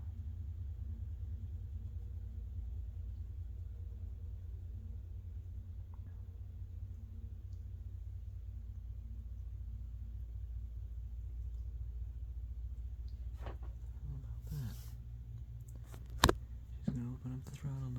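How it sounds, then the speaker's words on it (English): CN freight locomotives, Tier 4 units including 8307 and 3133, throttle up to climb a grade at West Ladysmith, giving a steady, deep engine rumble throughout with a few sharp clanks and bursts near the end. "Open up the throttle now to help the 8307 climb uphill."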